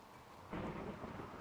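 Rain and a low rumble of thunder from the video game RimWorld, a steady wash of rainfall swelling into a deep roll of thunder halfway through the short stretch, with no voices.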